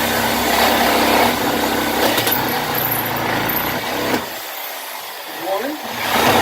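A Craftsman power tool drones with a high, steady engine-like whine while tearing down a wooden pallet, then cuts out briefly before spinning back up near the end.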